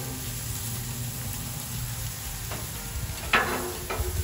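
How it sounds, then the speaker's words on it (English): Ham sizzling on a Blackstone griddle for an omelet, a steady low frying hiss throughout with a few brief sharper crackles and scrapes near the end, fairly close. "start just sizzling up that ham, giving it some extra flavor before we put our eggs in."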